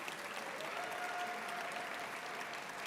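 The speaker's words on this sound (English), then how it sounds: "Give yourselves a round of applause." Applause from a crowd at a Pride Month kickoff event held by the San Francisco mayor's office, steady clapping heard from a distance and sustained for the whole stretch.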